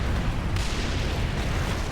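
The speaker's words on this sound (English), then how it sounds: "I think I stood close to that explosion." An explosion in the video game Warhammer 40k Space Marine gives a loud, close, sustained roar of dense blast noise that fills the whole moment without a break, and nobody speaks.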